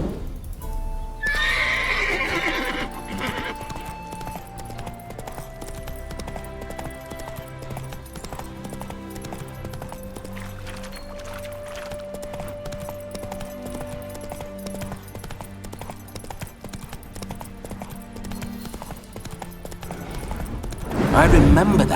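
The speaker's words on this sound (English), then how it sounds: "Spooking my horse." Horse from The Witcher 3 neighing and whinnying loudly near the start, then hooves clip-clopping steadily under a game soundtrack with tonal music, ending with a louder burst of movement.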